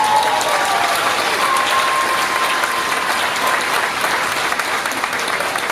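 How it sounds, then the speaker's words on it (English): A large audience claps steadily at Moore's 168th commencement ceremony, a dense, even wall of applause filling the hall from start to finish. "shall we clap for them?"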